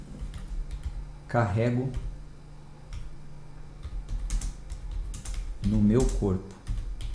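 Keyboard typing while a declaration is written, light rapid clicks in short bursts running beneath someone speaking Portuguese nearby.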